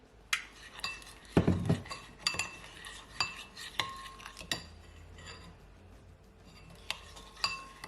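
A spoon stirs a jerk sorrel glaze loosened with olive oil in a bowl, making quiet, irregular clinks and scrapes against the bowl with soft pauses between them.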